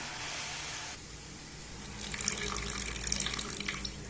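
Water poured into spiced masala in a pan while cooking chapathi noodles, a steady gushing splash that swells louder partway through, heard alone with no talk.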